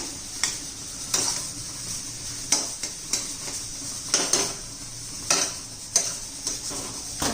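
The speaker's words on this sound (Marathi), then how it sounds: "त्याच्यावर आपण भरपूर अशी कोथिंबीर घालू आता व्यवस्थित मिक्स करून घेऊया" Ridge gourd thecha being mixed with plenty of fresh coriander in a pan, a spoon scraping and clinking in several distinct strokes over a soft background sizzle, close and fairly loud with no talking.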